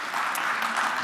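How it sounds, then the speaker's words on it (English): A short burst of audience clapping from a keynote crowd, moderately loud and continuous for about a second. "let's clap our hands."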